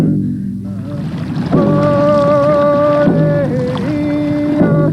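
Paddles work a large wooden canoe carrying a group of young men, steady splashing and water wash under loud sustained tonal music.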